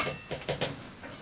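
A 10mm bolt being undone on an Einhell PXC TE-TS 36/210 cordless table saw gives a few ratcheting metallic clicks, about four distinct turns, close over a steady hiss of background noise.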